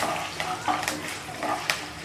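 Peanuts lightly roasting in a pan, with soft scraping stirs and a few clicks of the spoon over a faint hiss, brief and close.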